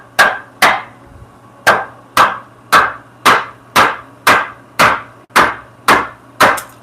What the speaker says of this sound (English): I can try to hammer it in.